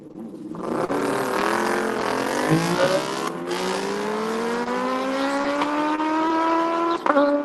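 A pair of drag racing motorcycles at a drag strip, engines wailing as they rev and climb steadily in pitch, loud and sustained throughout with a brief dip near the end.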